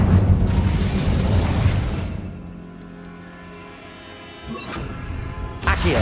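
A fiery spell blast bursts out loud at the start of an Incendio cast in a game, a roaring rumble that fades over two seconds, followed by faint ticks, a soft whoosh and another burst near the end.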